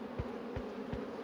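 Honeybees buzz steadily at an open hive, a dense close drone with a few soft thumps.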